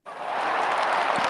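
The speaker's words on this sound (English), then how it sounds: "give yourself a round of applause" A short burst of clapping from a group, steady and fairly loud throughout, with no voices over it.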